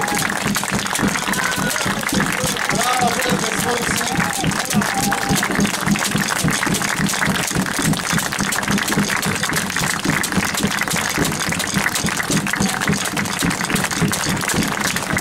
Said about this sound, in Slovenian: Aplavz za mađarske igralce